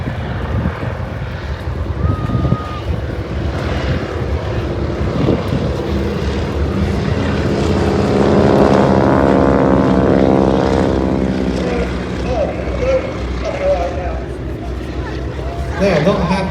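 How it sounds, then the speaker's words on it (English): Propeller aircraft drone low over Ayr beach, the engine swelling to a loud pass at mid-clip before easing off, with crowd chatter and voices throughout. "The aircraft are going to come back after they've unstrapped."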